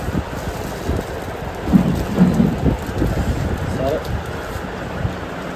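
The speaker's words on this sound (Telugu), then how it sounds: "వర్షం అయితే నాన్ స్టాప్గా వస్తుంది" Heavy nonstop rain pours steadily in a broad hiss, with low rumbles and a few louder bursts, while voices murmur faintly underneath.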